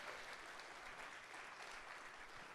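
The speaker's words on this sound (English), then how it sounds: "let's give them a round of applause" An audience applauds at a 1 Million Cups startup pitch gathering in Fargo. The clapping is steady and dense but faint and distant, heard alone.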